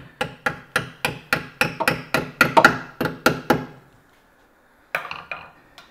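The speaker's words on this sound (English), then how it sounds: "Tap that out with a hammer." Rapid, evenly spaced metallic hammer taps on a rear disc brake retaining clip of a C3 Corvette, about a dozen in a row, then a pause and a few more quick strikes close by.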